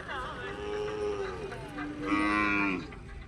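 Cattle at a livestock market in Wakhari low repeatedly in long, drawn-out moos, one call after another, close by over a busy outdoor crowd hum.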